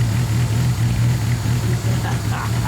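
Engine of a 1935 Adler Trumpf Junior Sport running indoors with an exhaust pipe fitted, a loud, steady low idle with a pulsing throb and a slight unevenness, close and filling the room.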